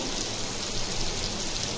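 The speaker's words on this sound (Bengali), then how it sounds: "আর বাইরে বৃষ্টি হচ্ছে।" Rain falls outside in a steady, even wash of broadband patter and hiss, constant with no breaks, moderately soft.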